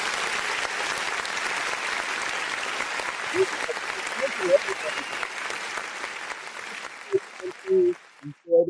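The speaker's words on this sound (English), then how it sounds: "Let me get my applause button ready, man." An applause sound effect fired from a button on a sports talk show, a flat, steady bed of clapping that fades out near the end as a voice comes back in briefly.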